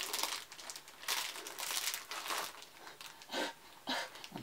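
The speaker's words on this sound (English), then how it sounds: "I got my scissors. Got my bag cut open." A plastic bag being cut open with scissors, heard as crinkly, rustling bursts of plastic handling and snipping close by, with several louder crackling swells toward the end and no talking.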